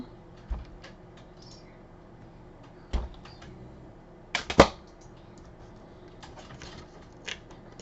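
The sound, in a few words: cutting a box with small cutting pliers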